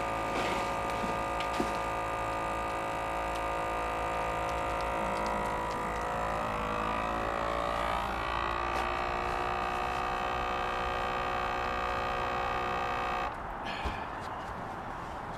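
A vacuum sealer runs while sealing skipjack tuna for the freezer, a steady close electric hum with a rising pitch as the bag tightens, then a change in tone near the end.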